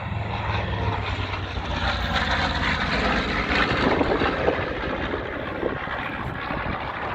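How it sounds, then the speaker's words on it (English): A P-63 fighter plane flies overhead at the 2019 Midland airshow, its propeller engine a loud, steady drone that fills the scene from start to finish. "Here comes that P-63 one more time, pretending he's a P-51"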